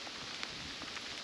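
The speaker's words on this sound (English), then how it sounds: "Starting to rain a little bit." Light rain falls on a ranch as a faint, steady hiss with soft scattered patters of drops, with no voices.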